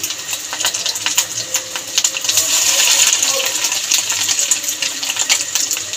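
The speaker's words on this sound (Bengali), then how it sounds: "মাছের ডিমের যে বড়াটা ভাজবো পুরোপুরি আমি সরষের তেলেই ভাজবো" Small fish egg fritters sizzle and crackle in hot mustard oil, a dense, bright frying hiss with scattered pops that swells and eases over several seconds, with no talking.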